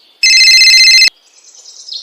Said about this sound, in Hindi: तभी उसकी सहेली का फोन आ जाता है